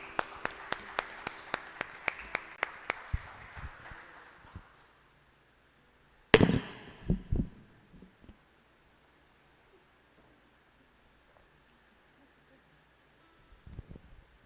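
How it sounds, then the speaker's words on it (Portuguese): Church congregation applauding during a worship service, a rhythmic run of evenly spaced claps that fades out, followed by a sharp clatter, scattered quieter sounds and long near-silence. "Dê uma salva de palmas para Deus, igreja."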